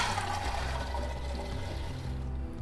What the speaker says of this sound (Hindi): तो सबसे पहले डाल लेंगे दाल।